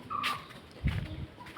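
A brief chicken call rises from a high-tech coop on a terrace, followed by a soft low thump and faint rustling. The whole moment is short and close by.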